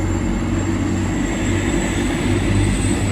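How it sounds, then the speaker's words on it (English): A TransPennine Express train passes at Doncaster, giving a loud, steady low rumble with a constant high whine running throughout and no talking. "Here we have the Transpennine Express going in the opposite direction"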